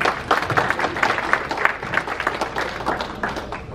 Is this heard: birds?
no